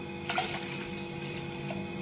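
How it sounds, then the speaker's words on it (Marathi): Cold water poured into spicy pani puri water at home, a steady, close, continuous pouring rush with light splashy bubbling. "त्यामुळे आपण याच्यामध्ये थंड पाणी ॲड करू."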